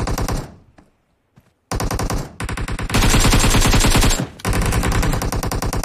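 Battle royale video game gunfire: loud rapid automatic bursts, dense and close, broken by short pauses, with no talk over them.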